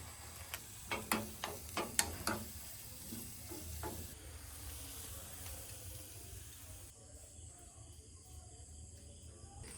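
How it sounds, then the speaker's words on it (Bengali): Chopped garlic hits hot mustard oil for a tarka, starting with a quick run of sharp crackling pops that settle into a faint, steady hiss. "সরিষার তেল নিয়েছি আর এই যে রসুন কুচি দিয়ে দেবো।"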